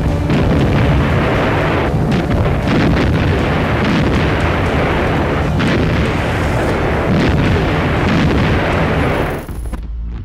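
Dense, continuous booming explosions and rattling gunfire of an air raid on a World War II airfield, loud and chaotic throughout before cutting off abruptly near the end.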